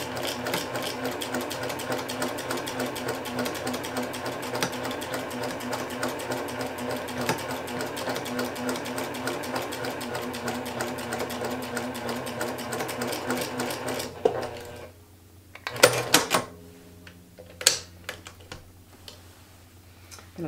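A sewing machine stitches quilt binding at a short stitch length in a fast, even mechanical rattle that runs steadily before stopping, followed by a few scattered clicks and handling noises.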